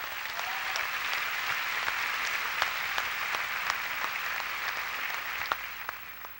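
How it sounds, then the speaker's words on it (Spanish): A church congregation gives a strong, sustained round of applause, an even wash of many hands clapping at a steady level for several seconds, slightly distant and without talk. "Denle un aplauso al Señor bien fuerte."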